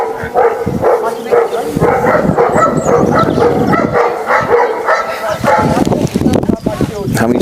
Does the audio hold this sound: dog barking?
yes